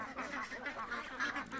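A single duck quacks repeatedly at close range in a series of raspy, honking calls that run together across the moment, with no talking.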